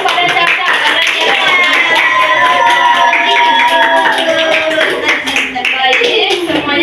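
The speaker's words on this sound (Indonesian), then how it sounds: "Beri tepuk tangan kepada Caca" Children in a madrasah classroom clap for a classmate named Caca, a dense, steady patter of many small hands sustained throughout, with voices and singing-like tones mixed in.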